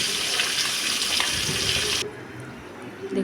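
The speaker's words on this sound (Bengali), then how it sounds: "উল্টে পাল্টে আমি মাছগুলো লাল লাল করে ভেজে নিচ্ছি।" Bata fish frying in hot mustard oil give off a loud, dense sizzle that holds steady for about two seconds, then cuts off abruptly into a much quieter background.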